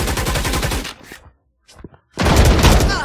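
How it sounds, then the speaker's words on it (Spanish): Rapid gunfire in a Valorant esports match at a LAN grand final, loud close bursts of automatic shots, a brief near-silent gap with a few scattered shots, then another intense volley. "ya empezaron los tiros"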